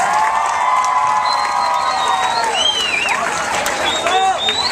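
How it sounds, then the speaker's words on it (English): A large audience claps and cheers together in a steady, loud burst of applause, with shouts and whistles rising above the sustained crowd noise. "Give yourselves a round of applause."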